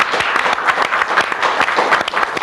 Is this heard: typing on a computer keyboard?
no